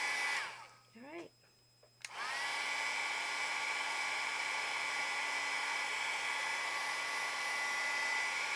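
An embossing heat tool melts powder on a greeting card, a steady high-pitched whirring blow kicking on after a brief moment of quiet and some faint vocal sounds, then running loudly and continuously to the end.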